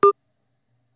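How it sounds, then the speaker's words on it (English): A single short electronic beep, clear and close, with silence after it. "That's my phone beeping."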